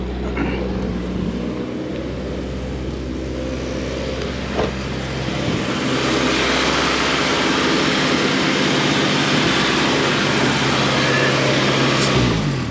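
A 1992-95 Honda Civic engine stuck at high idle from a faulty idle air control valve, giving a loud, steady, unbroken mechanical drone from close by.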